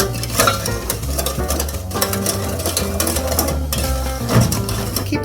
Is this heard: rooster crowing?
no